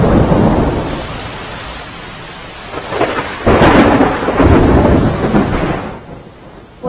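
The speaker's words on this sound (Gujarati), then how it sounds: "છેલ્લા 1 કલાકથી સતત જામનગરમાં વરસાદ છે તે વરસી રહ્યો છે" Heavy rain pours down in Jamnagar, Gujarat, with thunder rumbling through it. The downpour is loud and steady, with no talk.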